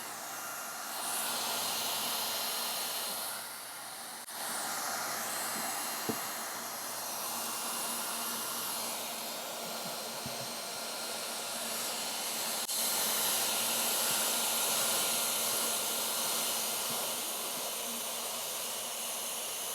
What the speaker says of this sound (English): And weld it out.